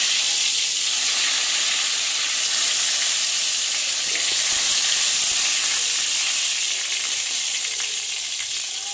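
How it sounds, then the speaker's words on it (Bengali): Loud, steady sizzling of eggplant frying in hot mustard oil, a continuous close crackling hiss with no voices. "প্রথমে আমি বেগুনগুলো ভালোভাবে ভেজে নেব।"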